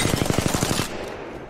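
Rapid automatic gunfire in a first-person shooter video game's shooting range, about ten evenly spaced loud shots in under a second, then a short echoing tail.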